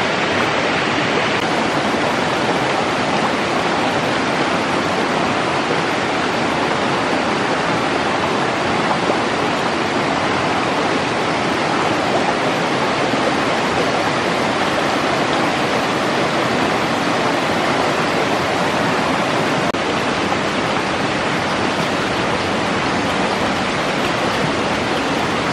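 A river crossed on a jungle trail toward a waterfall near Karawang-Jonggol rushes steadily, a loud, even wash of flowing water with no pauses and no voices.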